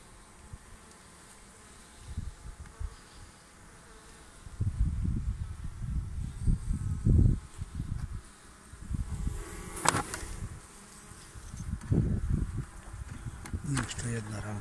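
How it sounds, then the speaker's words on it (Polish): A strong honeybee colony buzzes in an open hive, a steady soft hum with low thumps and handling sounds as frames are worked, heard fairly close. "Bardzo silny rój, dużo pszczół, mają się dobrze."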